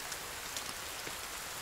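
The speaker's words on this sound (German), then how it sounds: "Es regnet." Rain falls steadily in the survival game The Forest, a soft, even hiss of drops on surfaces with a few faint individual patters, quiet and with no voices.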